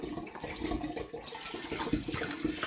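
A litre of liquid being poured into a vessel of homemade mulled spiced apple cider, a continuous gurgling, splashing flow that stays fairly close and steady throughout.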